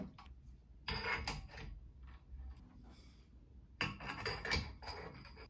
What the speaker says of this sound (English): Globe slides in, then you can tighten down the screws.